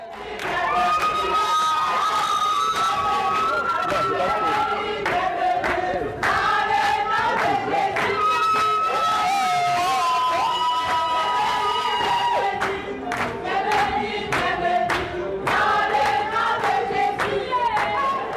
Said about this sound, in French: Des cris de réjouissance, des chants de bienvenue joints à des chants de louange au Seigneur qui a rendu le voyage possible ont été élevés en chœur